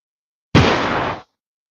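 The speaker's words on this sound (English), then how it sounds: "I want to see if you can hear my grenade go off." Grenade explosion in a video game, a single loud close blast that starts abruptly, sustains a broad roaring burst for under a second, then cuts off into silence.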